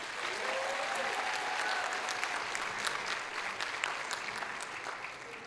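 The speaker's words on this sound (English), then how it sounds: "Please give yourself a round of applause" Graduates applauding at a Bronx Community College commencement ceremony, a broad continuous crowd clapping with scattered distinct claps standing out, steady and somewhat distant throughout.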